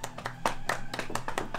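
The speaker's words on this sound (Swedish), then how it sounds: "Lukas Kimber, ta en applåd." Several people clap their hands outdoors on a hike, a short burst of quick, uneven claps at moderate distance.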